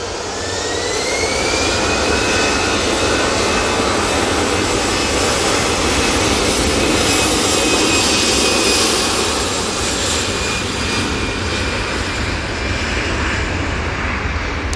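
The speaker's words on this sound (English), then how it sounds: "Right, EasyJet, now on the roll." An EasyJet jet airliner on its takeoff roll at Manchester Airport, a loud continuous jet engine roar with a rising whine, heard from a distance and holding steady throughout.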